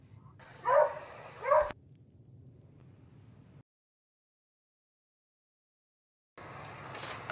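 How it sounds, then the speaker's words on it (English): A dog in the game Fallout New Vegas gives two short, moderately loud barks a second apart, then falls quiet, with faint game sounds returning at the end. "Okay, that should fix the dog barking problem."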